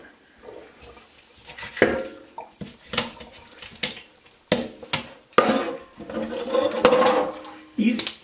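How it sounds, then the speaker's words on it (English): A knife cuts down one side of a whole chicken's backbone to spatchcock it, making a series of crunching, snapping cuts and clatters on a board while someone talks throughout. "just run that knife right down one side of the backbone"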